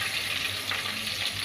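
Tempering spices spluttering and sizzling in hot oil in a clay pot, a dense continuous crackle with small pops, close and steady.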